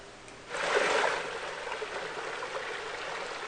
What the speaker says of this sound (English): this is what's considered a waterfall at Jackson Forest Park